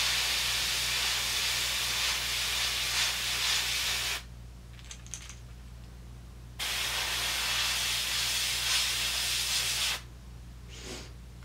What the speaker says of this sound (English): we're also going to go ahead and spray some black in those eyes.